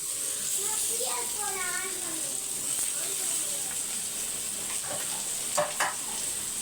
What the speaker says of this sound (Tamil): பாருங்கள் குழம்பு நல்லா கொதிச்சு வருது